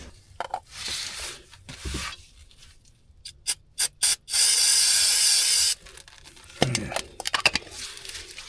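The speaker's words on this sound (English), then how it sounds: "You could probably hit this with some brake clean." Brake cleaner hisses from an aerosol can onto a Jeep Grand Cherokee differential, with a few short bursts followed by one long sustained spray of about a second and a half, amid scattered rubbing and clattering.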